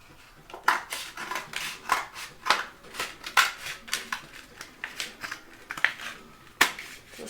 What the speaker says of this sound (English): took my scissors to and actually cut it all the way in half